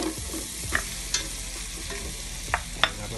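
Onion frying in melted butter for onion soup, a close, steady sizzle with several sharp taps of a utensil against the pan.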